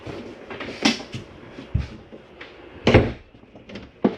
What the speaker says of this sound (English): For travel, make sure that your shower doors are secured back.